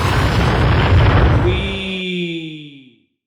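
A rocket launch effect roars as a dense, loud whoosh, then tails off into a fading whistle-like tone that drops away to silence after about three seconds.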